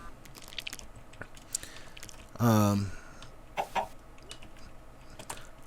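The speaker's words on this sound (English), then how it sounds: "Maybe I shouldn't have spawned chickens." Spawned chickens in Minecraft give one loud, clear cluck, followed by a couple of softer short clucks amid quiet game background sounds.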